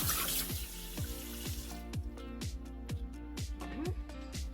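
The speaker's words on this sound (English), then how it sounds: "You're just going to rinse your turkey off. Very good under the cold water." Cold tap water runs and splashes as a turkey is rinsed in a sink, fairly quiet, with a rhythmic mechanical ticking pattern alongside it.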